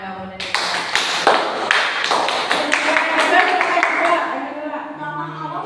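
Group applause from a school guidance group session, a burst of many hands clapping that starts sharply, holds steady for several seconds, then fades, with some voices mixed in.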